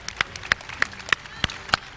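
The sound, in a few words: audience applause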